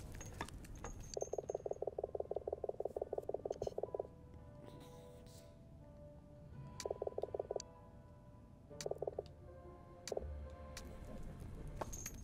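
A frog in the video game Ghost of a Tale croaks in rapid ticking trains: one long burst of about three seconds, then two shorter bursts, close and moderately loud over a faint ambient background.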